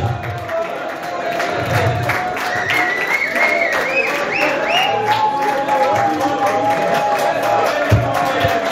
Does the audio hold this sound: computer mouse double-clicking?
no